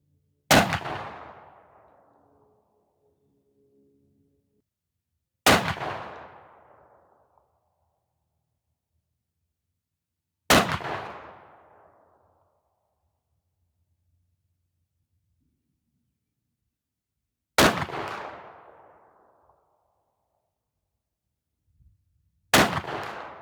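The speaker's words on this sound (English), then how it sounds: "So let's start taking some shots and seeing what we can get." Five loud 12-gauge Winchester sabot slug shots from a Savage 212 shotgun, each a sharp blast with a decaying boom, spaced about five seconds apart with near silence between them.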